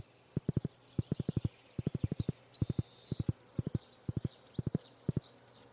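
A horse's hooves clip-clop in Stardew Valley at a steady walking rhythm, crisp regular clops repeating throughout with light bird chirps in the background.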